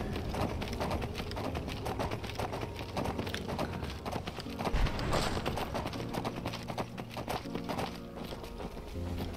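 Hoofbeats of an undead horse in Skyrim, a steady clip-clop of running hooves carried over a dense, continuous game soundscape of music and ambience, with a brief louder thud near the middle.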